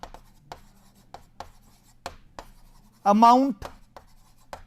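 Strokes of writing on a board come in short, crisp taps and scratches at an uneven pace, close and clear, with one brief spoken word cutting in partway.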